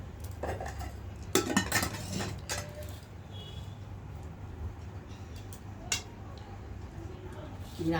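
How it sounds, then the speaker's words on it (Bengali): Rice is served onto a plate with utensils: scattered metallic clinks and scrapes, a cluster early on and a lone clink later, over a quiet room hum with a voice faintly in the background. "এবার এই যে আমার থালাটাতে নিচ্ছি ভাত"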